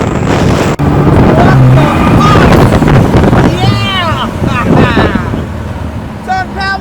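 A 2021 Vanderhall Venice three-wheeler drives along with strong wind rush and road noise. The engine hums underneath, and voices talk over the drive.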